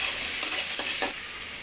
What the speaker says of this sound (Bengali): ওটটাও ভেজে নেব